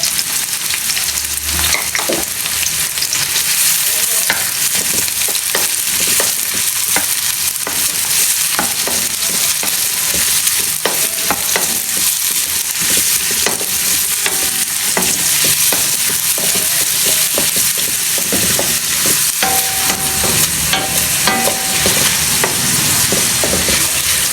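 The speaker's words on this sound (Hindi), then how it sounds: "प्याज को हमने 2 से 3 मिनट अच्छी तरह से भून लिया" Onions sizzle and fry in a pan while being stirred, the first step of an aloo gosht, with a steady close crackle and occasional scraping of the spoon, continuous for the whole stretch with no talking.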